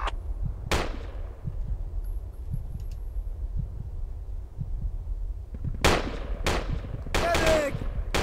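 Gunfire in Project Reality aimed at a technical: sharp, loud shots burst out near the start and again in a rapid cluster toward the end, over a low, steady battlefield rumble.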